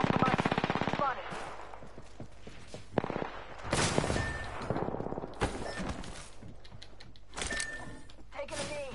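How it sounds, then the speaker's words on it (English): Gunfire in the Apex Legends shooter, rapid automatic bursts and single loud shots repeating throughout with mechanical clanks, game sounds and brief voice lines mixed in. "Shots fired."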